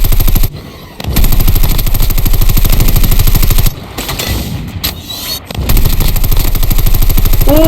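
Rapid automatic gunfire from the mobile shooter Call of Duty Mobile, in a Blackout battle royale match, loud and sustained in long bursts with brief pauses, plus a chopper in the fight.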